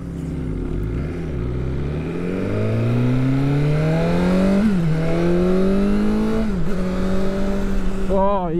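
A BMW S1000R Sport motorcycle engine climbs through the revs under throttle, rising tones with a couple of gear-change dips, loud and close, ending in a brief higher whine.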